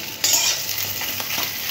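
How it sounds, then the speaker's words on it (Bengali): A spatula stirs fish roe in a pan for a Bengali fish egg jhuro, giving a close scraping and soft sizzle that runs steadily and alone, with no voices. "খুন্তি দিয়ে এইভাবে ডিমগুলো ঢুকিয়ে দিতে হবে"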